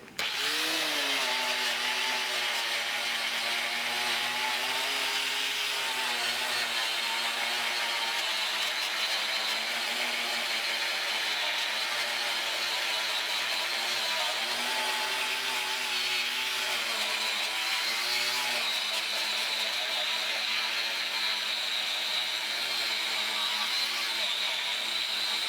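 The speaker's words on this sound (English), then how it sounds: "I've actually got one on the grinder already, and give it a little spot a try" Angle grinder fitted with an abrasive spider web stripping wheel taking paint off a Jeep CJ7 frame during restoration, a steady continuous high whine with broadband grinding noise that stays loud and unbroken throughout, with no talking.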